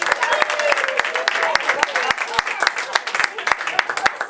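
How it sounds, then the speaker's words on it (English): An improv workshop audience claps in a brief round of applause, dense and steady for a few seconds, close and moderately loud. "Give them a round of applause!"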